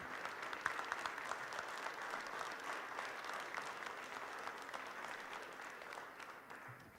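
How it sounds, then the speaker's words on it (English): A crowd applauds the Aer Lingus crew at a welcome event for the inaugural nonstop flight, steady distant clapping that slowly fades near the end. "Applause for our crew after 12 hours of work."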